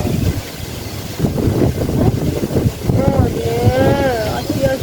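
Strong wind buffets the microphone in a steady low roar, with brief high whistling tones near the end.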